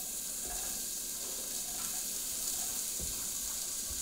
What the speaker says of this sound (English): we've just heated the pan up with a little bit of butter, and we're going to get some of our vegetables sauteing here